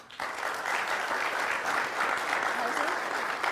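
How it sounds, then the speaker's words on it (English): A debate audience claps in dense, sustained applause, a continuous wash of hands that fills the whole stretch, loud and steady, with voices faintly mixed in. "I don't know why we are clapping"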